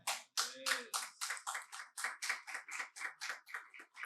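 Applause rings out in a church Bible class as hands clap in a steady, evenly spaced rhythm, about a dozen sharp claps over four seconds. The claps sound fairly close and moderately loud.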